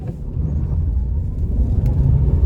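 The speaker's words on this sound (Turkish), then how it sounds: "Dip gaz yaptım." A Chery Tiggo 7 Pro accelerating hard at full throttle on a wet road, with a loud, steady low engine and road rumble heard from inside the car.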